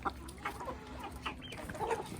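Young chickens raised from chicks cluck in short bursts, close and fairly quiet, with soft irregular calls against a low background.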